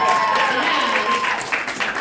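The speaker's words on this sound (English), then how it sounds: "Let's give a round of applause for Mother Nature" Brief burst of applause from a comedy club audience, a dense patter of clapping that swells briefly and tapers, with a voice talking over it.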